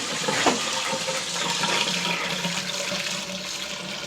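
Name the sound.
water draining through funnel into P-trap drain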